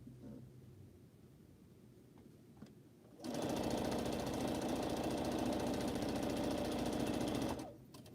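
Sewing machine stitching pineapple quilt blocks runs in a loud, steady, close-up whir for about four seconds. It starts abruptly after a quieter stretch and stops near the end. No one speaks over it.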